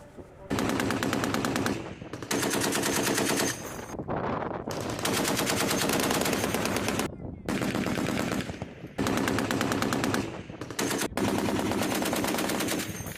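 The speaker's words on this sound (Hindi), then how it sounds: "ये एंटी एयरक्राफ्ट गन्स है जिनका एक्शन आपको देख रहे हैं।" Ukrainian anti-aircraft guns fire in long, loud sustained bursts of rapid automatic shots, separated by short pauses, dense and close with no talk over them.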